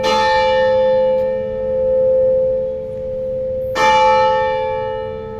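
Noon bells from a church tower in Chợ Lớn, District 5, two loud resonant strikes several seconds apart, each leaving a long sustained humming decay, with no voices.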